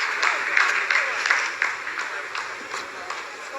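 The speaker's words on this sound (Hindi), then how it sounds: "आप इस तालियों के गड़गड़ाहट को सुन सकते हैं" Scattered applause from a group of scientists at the Chandrayaan-3 lunar mission, a steady patter of clapping that slowly thins out, with voices talking underneath.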